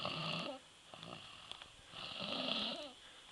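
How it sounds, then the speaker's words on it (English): A person snores close up in two long rasping breaths, one after another, with a wheezy rattle and no talk. "I caught you snoring"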